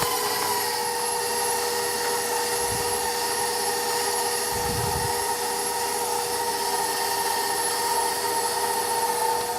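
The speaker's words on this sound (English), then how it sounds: "I'm going to turn the mixer back on to about speed 4" A KitchenAid stand mixer at speed 4 grinds and stuffs sausage, a steady, loud whining motor hum with faint low thumps from the meat being fed through.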